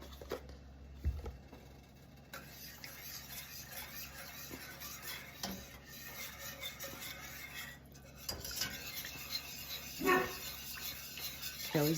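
A spoon scrapes and clinks against a metal pot in irregular stirring strokes through a creamy ranch sauce with heavy cream, close and fairly quiet, with occasional louder knocks.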